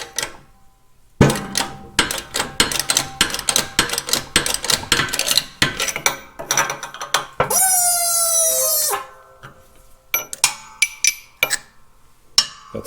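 A press pushes a bearing off a shaft on a Caterpillar D2 pony motor governor, a socket bearing on the shaft end: a rapid series of sharp metallic clicks and clanks, a loud squealing screech midway, then scattered knocks.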